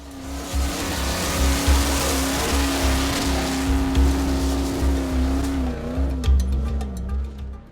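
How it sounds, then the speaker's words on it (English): A Toyota 4x4 engine drones steadily under load climbing a hill in the Simpson Desert, its pitch wavering and dipping as it labors, with a continuous rumble and some hissy background noise. "Here's Shane and Tina again, showing us that Toyotas can get up hills."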